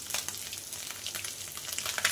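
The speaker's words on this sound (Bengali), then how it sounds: "দেখো মাছগুলো ভাজা হয়ে গেছে" Small tangra fish fry in a pan of hot oil, giving a steady close crackle and sizzle with bright spitting pops throughout.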